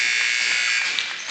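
Loud, steady electronic buzzer blares continuously at the end of the first half of a high school basketball game, the Paul Terry Classic tournament, holding unbroken for over a second.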